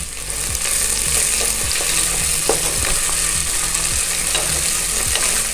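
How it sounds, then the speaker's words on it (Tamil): Sliced onions fry in a pan for coconut milk rice, a steady dense sizzle with periodic stirring scrapes, close and fairly loud, no talk. "இப்போ வெங்காயம் சேர்த்துக்கலாம்."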